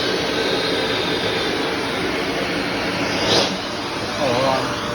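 Shark Navigator Anti Allergen upright vacuum running during a hose suction test, a continuous loud whooshing motor roar with a brief swell partway through; speech is faintly present under it.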